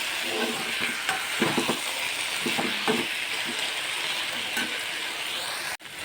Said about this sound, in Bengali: আস্তে আস্তে আস্তে আস্তে করে সব চিংড়ি মাছগুলো ভাজতে হবে